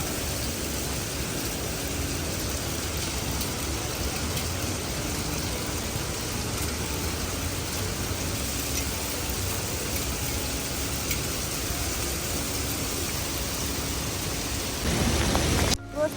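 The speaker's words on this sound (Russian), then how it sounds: "Просто под градом, под дождем бежим." Hail and rain pour down in Batumi during a winter thunderstorm, a dense, unbroken hiss throughout that grows rougher and closer in the final seconds.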